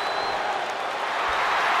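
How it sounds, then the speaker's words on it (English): Arena crowd at WWE Monday Night RAW roaring and applauding in a steady, dense wash of noise, loud and sustained throughout with no break. "Listen to this crowd driving these competitors to leave everything out in the ring."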